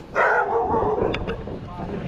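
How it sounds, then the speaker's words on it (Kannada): A dog barks at night beside a road or route, its calls fairly close and loud, mixed with a person talking over the sound. "ನಾಯಿ ಬರ್ತದ ಹುಡು"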